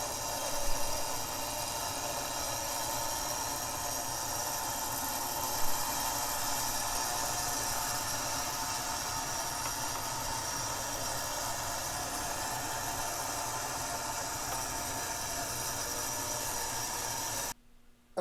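Steady electrical buzz from the E unit of a 1974 Lionel MPC O scale toy train engine from a D&RGW service station set, a constant hum running unbroken for about seventeen seconds before cutting off abruptly, with no talk.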